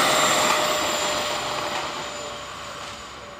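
Freewing AL37 radio-controlled Boeing 737 model jet with electric ducted fans roaring steadily at takeoff in Portland, Oregon, a loud broadband whine that slowly fades as it moves away.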